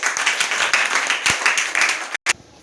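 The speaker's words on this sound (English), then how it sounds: "Right answer. Claps." Children clapping together in a fifth-grade maths class, a steady burst of applause that runs about two seconds, breaks off briefly and then gives one last short clap.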